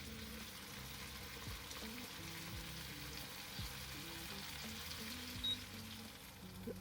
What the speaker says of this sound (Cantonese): 我哋準備將啲番茄煎一煎佢